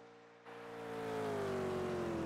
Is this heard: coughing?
no